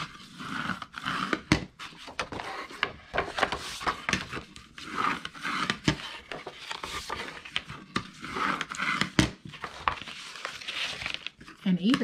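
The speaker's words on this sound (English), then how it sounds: "So now we'll just fold and burnish all of our scores." Scored paper is folded and burnished by hand at close range, giving irregular crinkling, crisp creases and short rubbing scrapes in quick bursts.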